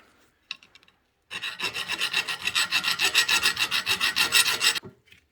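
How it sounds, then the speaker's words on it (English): A metal part is hand filed up close, a few tentative strokes followed by a long run of steady, rhythmic rasping back-and-forth passes that stop abruptly, with no talking. "we need to just file it down real quick. Clean it up a little bit."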